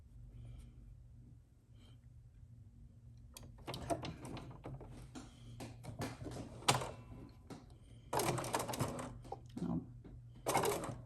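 A sewing machine stitches a curved waistband seam in bursts of rapid mechanical chatter with short pauses between runs, starting after a few quiet seconds and growing louder in the final stretches.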